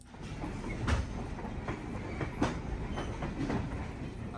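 A Colebrookdale Railroad train rolls along the tracks during its Christmas season, with a steady rumble and rhythmic clickety-clack of wheels over rail joints. It sounds moderately close and plays alone, with no talking.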